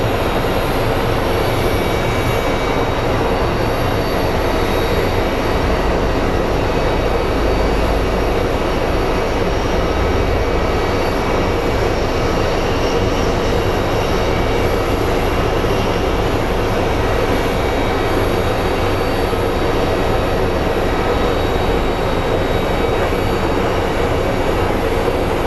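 A Southwest Airlines jet arriving at Phoenix Sky Harbor International Airport, a steady broad engine roar that holds loud and constant throughout with no voices.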